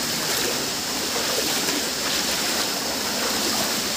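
Fast, clear water rushing down Arapay Falls makes a steady, loud broadband roar, close and unbroken for the full four seconds, with no voices.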